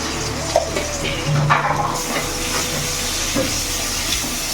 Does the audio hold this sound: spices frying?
yes